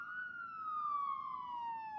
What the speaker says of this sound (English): What's with your siren?